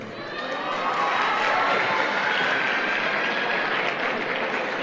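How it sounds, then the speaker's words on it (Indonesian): Applause from a seated audience of adults at a talk, building quickly into a dense, steady round of clapping with some crowd noise mixed in, holding loud to the end. "Oke, tepuk tangan Pak."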